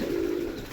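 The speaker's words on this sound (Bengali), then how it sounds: "চলে এলাম পায়রা ঘরে" A single soft, low coo from pigeons in a pigeon loft, heard close and brief with no voices.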